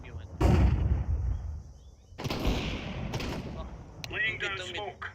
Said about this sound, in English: Deploying flashbang.